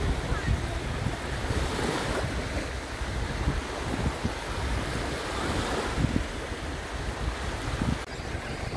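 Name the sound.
Black Sea waves on deserted beach near Sulina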